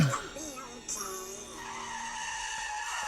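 A cartoon car in a Mickey Mouse episode skids with a squealing tire screech that sweeps across the opening moments, followed by a sustained tonal engine or music-like drone, moderately quiet.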